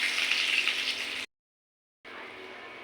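Onions frying in hot oil in a wok, a close, bright sizzling hiss that cuts out abruptly for under a second, then returns a bit softer and steadier.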